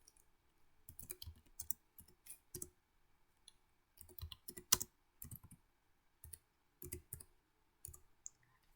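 Computer keyboard typed in short bursts of crisp key clicks with pauses between them, close and moderately loud, no voices.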